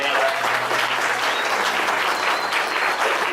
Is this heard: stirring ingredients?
no